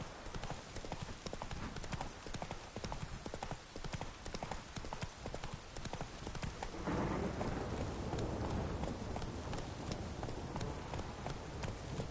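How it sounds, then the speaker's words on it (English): Rain and thunder in The Witcher 3 as a horse clip-clops along steadily, the hooves rhythmic over a rain hiss, then a loud rolling thunder swell rises and lingers near the end. "Let it rain. Wash the blood from the fields."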